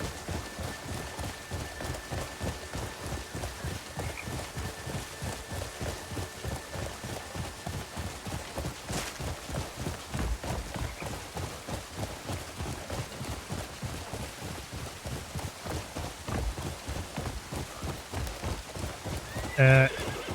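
Steady clip-clop of hooves in the game Crimson Desert runs throughout with a rainy hiss behind it, and a brief whinny near the end.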